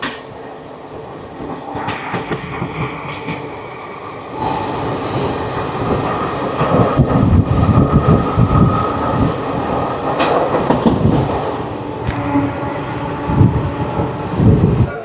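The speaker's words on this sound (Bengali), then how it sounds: "আর খানিকক্ষণের মধ্যেই আমাদের সঙ্গে দেখা হলো 13018 ডাউন আজিমগঞ্জ থেকে হাওড়াগামী গণদেবতা এক্সপ্রেসের সঙ্গে" A Ganadevata Express train, the 13018 down from Azimganj to Howrah, passes close by a moving Bagh Express, giving a loud, building rumble with rhythmic wheel clatter and some squealing that swells and surges throughout.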